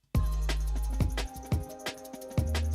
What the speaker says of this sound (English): there's a lot of different crashes that you could use basically, but I usually like to use the 18-inch